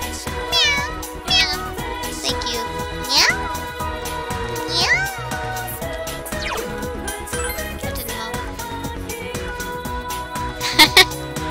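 A cat meows repeatedly in Persona 4 Golden, several clear rising and falling cries near the start and middle, over game music with light chimes and jingles.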